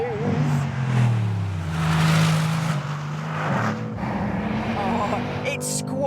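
Mercedes-AMG C63 S engine on a precision track lap, loud and close, rising and falling through revs with gear changes, steady and continuous under someone talking.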